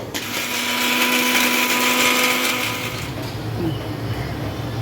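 A kitchen mixer grinder whirs loudly and steadily while grinding garlic, coriander and cumin without water. The whine runs for about three seconds, then cuts off, leaving quieter room noise.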